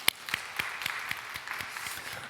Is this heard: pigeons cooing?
no